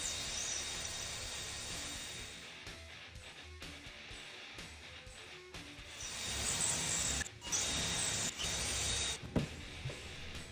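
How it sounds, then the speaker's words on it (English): A power drill set to high speed bores a hole through drywall during a patch repair, giving a steady whirring grind with rougher bursts that swell louder toward the end, heard alone and close. "just set your drill on high speed"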